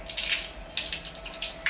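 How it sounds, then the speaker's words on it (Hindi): Water runs from an outdoor tap, a steady close splashing and hissing stream with small irregular gushes, no voices over it. "यही बढ़िया नल है, तो नल में चलता है पानी"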